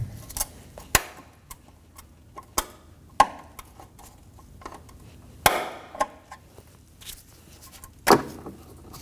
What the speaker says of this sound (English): We're going to remove this plastic clip from the vehicle using a trim tool.